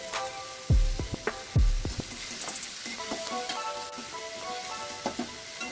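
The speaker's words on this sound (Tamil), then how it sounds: "தேவையான அளவு உப்பு, ஒரு கொத்து கறிவேப்பிலை சேர்த்து வதக்கவும்." Chana dal, dried chillies, onion and tomato with salt and curry leaves sizzle and crackle in a pan, with two loud stirring scrapes early on and a steady frying hiss continuing after.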